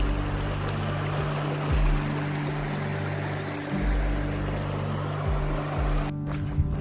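A mountain water source flowing beside the Pacific Crest Trail near Big Bear, a steady close rushing and gurgling of water that runs alone without pause.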